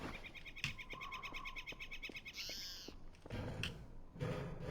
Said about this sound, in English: There's a very noisy, squawky bird.